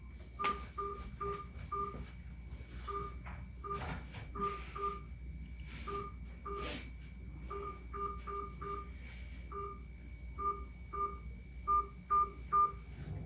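Automated phone payment system (IVR) tones: a steady series of short, evenly spaced two-pitch beeps, fairly close and clear over a low background hum, with no talking.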